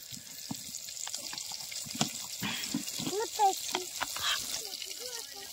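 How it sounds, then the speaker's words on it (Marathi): Spice masala frying in hot oil for a spicy mutton dish: a soft sizzle with scattered pops and stirring sounds, and a voice murmuring briefly in the middle. "तेल ओतलेल्याच्या नंतर आता माशाला टाकून गेला आहे"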